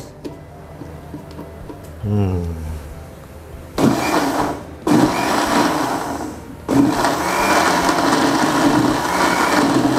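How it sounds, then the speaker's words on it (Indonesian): A blender grinds dried chili peppers in loud bursts that start and stop, each rising into a harsh whirring roar. A voice is heard briefly before the motor runs. "Dalam blender, silakan dari yang kecil dulu, baru kita gas"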